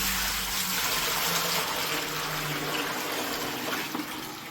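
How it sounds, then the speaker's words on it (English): Water gushing steadily into a 55 cm Himalayan singing bowl, a continuous close splashing fill that thins slightly toward the end. "I'm going to put water inside."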